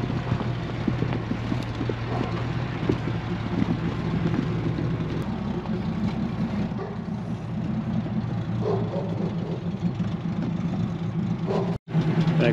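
A rare 6x6 all-terrain vehicle, 4.7 metres long, squeezes slowly between birch trees, its engine droning in a steady low rumble. Wind buffets the microphone throughout, and the sound cuts out briefly near the end.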